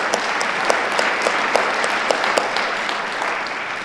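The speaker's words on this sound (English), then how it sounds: "Please help me give them a round of applause to thank them as well." Conference ballroom audience applauding sponsors during a CEO keynote at an AEC industry event, steady dense clapping with scattered sharper claps, no voices.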